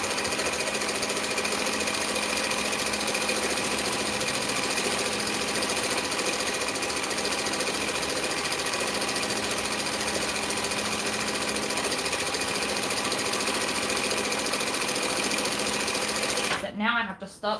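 Close, continuous, loud whirring of a sewing machine stitching a long straight seam on a bulky shade sail, running steadily without pause until it stops abruptly at the end.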